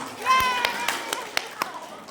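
A small audience at an Isra Miraj religious gathering claps hands, a handful of separate, sparse claps spread out evenly, with a voice talking at the start.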